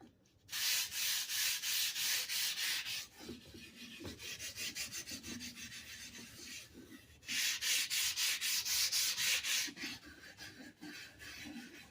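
Steel edge rubbed back and forth on a 1,000 grit Japanese water sharpening stone, loud rhythmic scraping strokes in two long bursts with a softer, quieter stretch of strokes between them.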